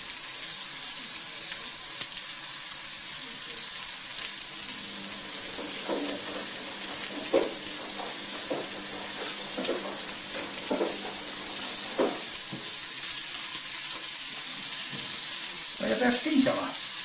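Water poured over hot fat in a pot while cooking mashed potatoes sets off a steady sizzling hiss, with scattered louder crackles and bursts of spitting throughout.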